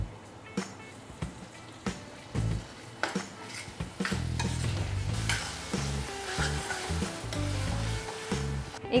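Ginger-garlic paste and tomatoes for pav bhaji are stirred in a pan. Spoon scrapes and knocks come first, then a steadier sizzle builds with clattering stirs, close and moderately loud.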